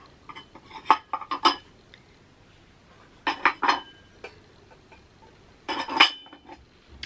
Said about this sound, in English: Let me put some of these dishes back where they were.